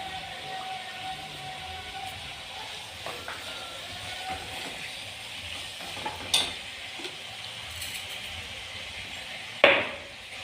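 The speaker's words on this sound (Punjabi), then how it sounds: "ਵਧੀਆ ਭੁੱਜ ਜਾਣਗੀਆਂ ਹਰੀਆਂ ਮਿਰਚਾਂ" Green chillies roasting with salt in a pan as rice is prepared, a steady low sizzle running throughout with a few sharp clinks and scrapes of a utensil, one louder knock near the end.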